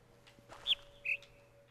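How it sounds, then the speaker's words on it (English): Two clear bird chirps from speakers in the video game The Witness's jungle area, a higher whistled note then a lower one about half a second apart, over a faint steady hum. "they're not actual birds. They're speakers."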